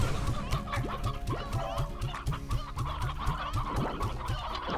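Chickens in the video game Slime Rancher cluck in a rapid, regular series of short calls, steady and moderately loud, layered over busy game sounds without any talk.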